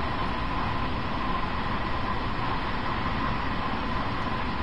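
A train running in Train Sim World 2020, a steady loud rumble and rolling rail noise that holds unchanged throughout with no breaks.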